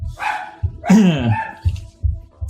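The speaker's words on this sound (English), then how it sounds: "And my dogs go crazy." Several dogs bark loudly and excitedly nearby in short, overlapping bursts, with one drawn-out whining bark in the middle.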